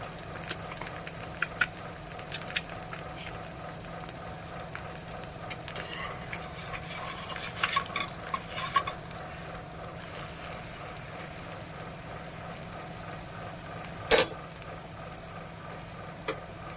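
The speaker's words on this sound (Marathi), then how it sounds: "अर्णवच्या टिफिनसाठी दोन पाव गरम केलेत" Pav bread buns heat in a pan, giving a faint, steady sizzle under low background hiss, with a few light clinks and one sharp knock near the end.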